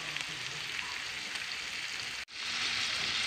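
A pork steak frying in a pan, with a steady, close sizzling hiss that briefly drops out for a moment before carrying on at the same level.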